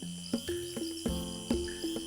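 A basin tree frog calls in the Amazon with a string of short, sharp, evenly spaced notes over a steady background chorus of insects at night.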